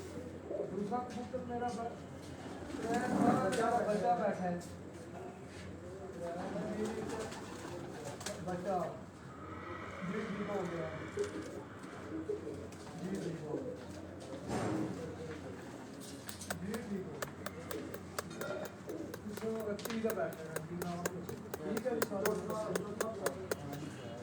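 Pigeons, including a black-faced breed, coo repeatedly on a rooftop loft, soft rolling calls close by, while someone talks over them throughout.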